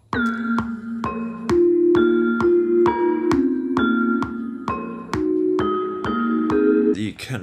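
A bell melody plays at half tempo in a trap beat, with about a dozen clear struck bell notes at a steady, even pace. Each note rings briefly over a low sustained tone, and a short noisy burst closes the phrase.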